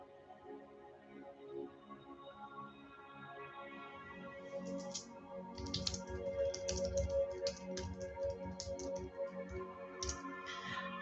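Quiet, rapid keystrokes on a computer keyboard as a prompt is typed, a steady run of light clicks with short pauses, close by over a faint background hum and no talking.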